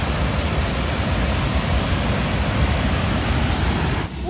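The powerful Tahquamenon waterfall roars as a dense, loud, unbroken rush of water close by, holding steady for several seconds before cutting out abruptly near the end.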